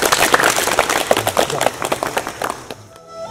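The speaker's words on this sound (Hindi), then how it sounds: "जोरदार ताली" A group claps together during an indoor yoga session, a burst of brisk, fairly loud rhythmic hand claps that fades out near the end.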